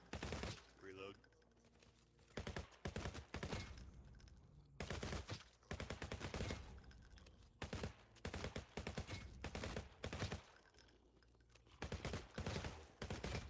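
Uzi submachine guns firing in Resident Evil 4 VR, rapid bursts of automatic fire repeating through the clip with short pauses between them, and a voice speaking in the gaps.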